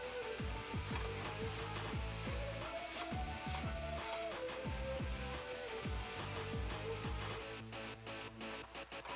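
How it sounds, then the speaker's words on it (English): A 10mm ratcheting wrench tightens a bolt on a side step bracket of a Jeep Wrangler JK 2-door, giving rapid, close metallic clicking in repeated bursts with brief pauses, loud and steady with no voices. "Grab the included Allen key and a 10mm wrench and tighten this down."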